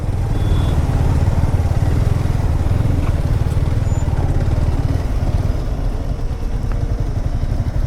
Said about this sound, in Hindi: फिर से इंजन लगा।